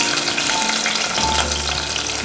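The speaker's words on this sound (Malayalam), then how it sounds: "നമുക്കിതിലേക്ക് വെളുത്തുള്ളി 12 പീസ് വെളുത്തുള്ളി അരിഞ്ഞ് ഇട്ട് കൊടുക്കാം." Chopped garlic dropped into hot oil with browned fenugreek seeds, a loud dense frying sizzle filling the whole moment, no voices.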